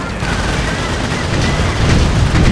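Sustained volleys of automatic gunfire in a modern-combat Company of Heroes battle: a loud, continuous rattle of overlapping shots that builds slightly toward the end.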